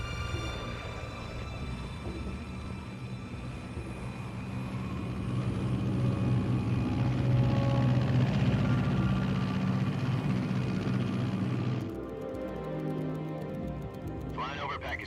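Aircraft engine in the Metal Gear Solid video game, flying at altitude over Pakistan: a continuous, droning engine tone with layered harmonic hum that swells midway and then shifts to a thinner texture near the end.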